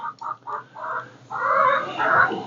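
Several short, separate clucks open the clip, then louder, fuller chicken calls follow from a homestead flock, close by and overlapping with no one talking.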